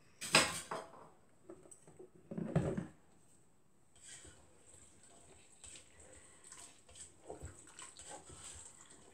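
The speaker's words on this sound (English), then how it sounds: "I also add 1 can of kernel corn, which I always dump and rinse" Canned kernel corn rinsed under running water in a kitchen sink, opening with two loud bursts of splashing and pouring, then quieter trickling, sloshing and faint clinks of a can or dish.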